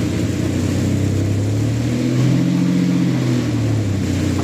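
A Lamborghini Diablo VT with 17,000 km on it idles while warming up, giving a deep, steady V12 rumble that swells briefly in a mid-clip rev before settling back, loud and close with no talking.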